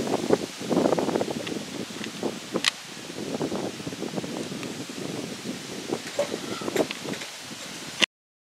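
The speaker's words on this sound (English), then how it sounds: "It's a windy day" Steady wind gusting outdoors at a masonry work site with rustling and buffeting, moderately loud and continuous, with occasional sharp clicks.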